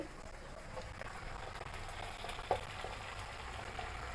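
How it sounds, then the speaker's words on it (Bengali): Thankuni leaves and green chillies fry in oil, a quiet, steady sizzle with soft crackles and one small pop. "এখন আমি তেলের মধ্যে দিয়ে দিব থানকুনি পাতা"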